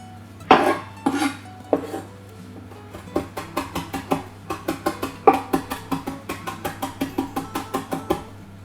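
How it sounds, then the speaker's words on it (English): A knife on a chopping board gathers chopped burger ingredients such as turkey and courgette, opening with a few broad scrapes, then a long run of crisp, evenly spaced taps close by. "You're just using the back of the knife to gather it together."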